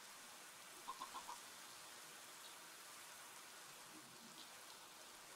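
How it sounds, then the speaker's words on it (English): Minecraft rain falls as a soft, steady hiss of game weather, faint and continuous, with a short run of four quick chirping tones early on. "Rain."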